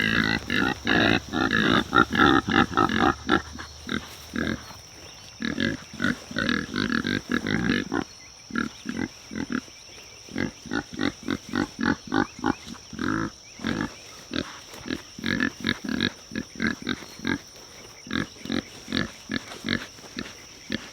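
Hungry farm pigs grunt in rapid, repeated bursts, close and busy, with short pauses between clusters of snorting grunts.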